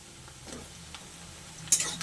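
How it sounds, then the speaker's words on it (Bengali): Potatoes fry in oil with onion and chili in a pan, giving a faint, low sizzle with a few soft stirring scrapes and a brief louder clink near the end. "আলুটা আর একটু ভালো করে পেঁয়াজের সঙ্গে লাল লাল করে ভেজে নেব"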